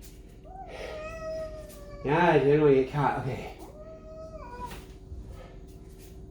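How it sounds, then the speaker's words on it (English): An angry cat meows several times, rising to a loud, drawn-out wavering yowl in the middle, while a person speaks briefly nearby. "this kitty's mad"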